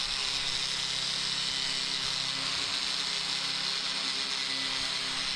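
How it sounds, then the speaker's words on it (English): An angle grinder fitted with a diamond wheel, used without a guard, trims material in a steady, unbroken whine with a bright hiss that holds evenly at close range for the whole stretch. "give it a trim with a diamond wheel on the grinder"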